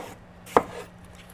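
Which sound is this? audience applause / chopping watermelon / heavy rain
chopping watermelon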